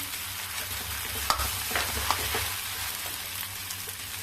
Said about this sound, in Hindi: अब इन सबको अच्छे से इसमें चला के मिक्स करके आलू को भूनते हैं लाल होने तक